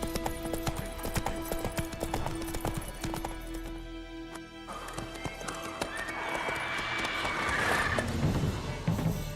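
Hooves of the horse Roach clop rhythmically in The Witcher 3, a steady galloping patter close by with a neigh partway through, layered over game music and ambient sound.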